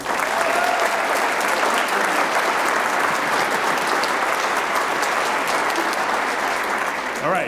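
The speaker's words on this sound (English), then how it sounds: "And one more round of applause for our band." A university concert audience claps for the band, a continuous, full round of applause that stays level and steady for the whole stretch.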